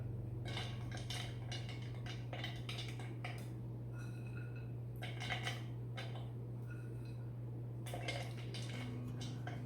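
Toasted walnuts drop into the bottom of a baking pan for monkey bread, a series of light clinks and rattles against the pan over a steady low kitchen hum, no talking.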